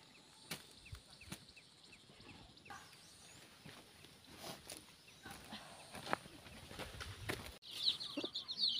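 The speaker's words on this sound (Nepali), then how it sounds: "कुखुरीका माउ" A mother hen with her chicks in a Nepali village clucks softly in short scattered calls, faint and fairly distant in a quiet outdoor setting.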